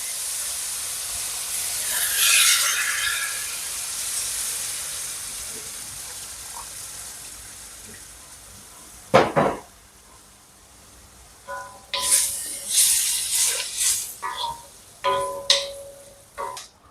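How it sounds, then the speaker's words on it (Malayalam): Vinegar poured into hot ambazhanga pickle in a pan hisses briefly and faintly, then a sharp splash is followed by louder, uneven sizzling bursts near the end. "നമുക്കിനി വിനാഗിരി ചേർത്ത് കൊടുക്കാം."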